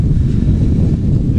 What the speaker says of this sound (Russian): Ветер, конечно, капец.